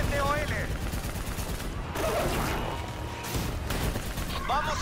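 Gunfire in Call of Duty Black Ops 3, continuous dense rattling bursts and explosions across a loud battle, with voices speaking in between.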